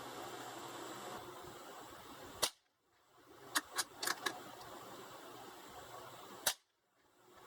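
A 22lr rifle with a 21-inch barrel is fired outdoors over a chronograph, giving sharp, loud cracks: a single shot, then a quick cluster of four, then one more shot, each followed by a short silent gap.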